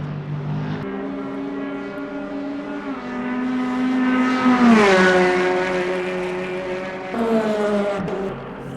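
GT3 race cars in the Le Mans Ultimate video game, a loud steady engine whine that rises in pitch, drops through a gear change and climbs again, running continuously with no talking.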